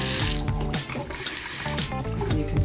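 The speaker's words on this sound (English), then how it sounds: "turn on some water." Water runs from a tap in an empty, clean house, a steady close rush with ringing, resonant pipe tones and no talking.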